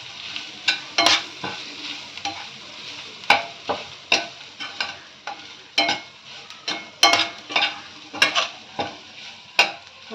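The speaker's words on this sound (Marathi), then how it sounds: "मसाले परतून घेऊया।" Coriander powder, cumin powder and a little turmeric sautéed in hot oil, with a spoon repeatedly scraping and stirring the pan over a soft sizzle, giving close, irregular clinks and scrapes with no voices.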